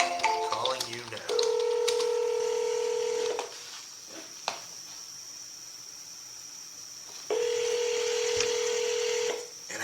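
Telephone dialing a call, with several quick touch-tone beeps followed by two long steady tones separated by a quiet gap with a few faint clicks.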